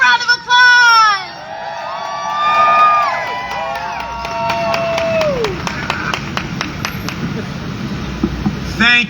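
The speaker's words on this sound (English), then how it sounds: "Let's give a warm welcome, a big round of applause." Outdoor crowd at a union rally outside Hearst Tower on West 57th Street in New York, cheering and scattered clapping with shouts and whistles, street traffic in the background, while voices call out near the microphone.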